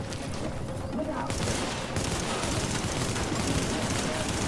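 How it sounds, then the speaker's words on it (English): Weapons fire in the video game The Division comes as a dense, loud barrage of gunshots and booms, with a voice heard faintly beneath the shooting. "Go with the shotgun."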